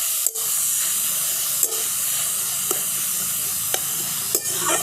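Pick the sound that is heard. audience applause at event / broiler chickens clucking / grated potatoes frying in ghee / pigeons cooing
grated potatoes frying in ghee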